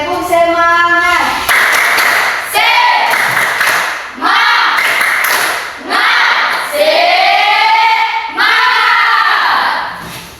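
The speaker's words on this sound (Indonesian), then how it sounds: "Tepuk semangat." A classroom of students claps out a rhythmic 'tepuk semangat' spirit clap in several loud, patterned bursts, with voices chanting along between the clapping phrases.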